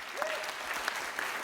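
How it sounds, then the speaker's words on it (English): Lecture hall audience applauding, a dense even patter of many hands sustained throughout, with a faint voice briefly audible near the start. "which you all must clap for again"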